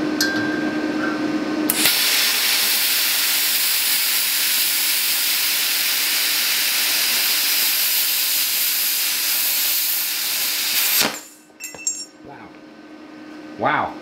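Vevor CUT-50P plasma cutter slicing through metal, a loud steady roaring hiss that starts abruptly, holds for about nine seconds and cuts off, followed by a few faint clinks.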